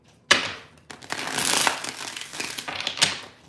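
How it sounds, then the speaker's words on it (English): Cards being shuffled close by in a few rustling, crinkly bursts, with a sharp start, a longer riffle in the middle and a final snap. No one speaks. "Two more shuffles here, 2 more."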